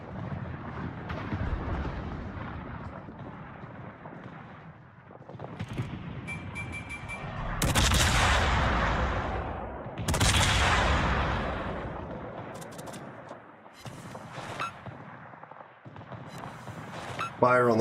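Warship naval guns firing at the Hotaka in World of Warships, two heavy booming salvos with long rumbling tails between stretches of ongoing game noise and someone talking.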